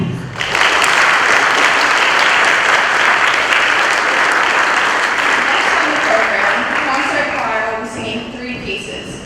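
Concert audience at a spring choir performance breaks into loud, dense applause that swells quickly and holds steady, then tapers off as voices and cheers begin to rise over it near the end.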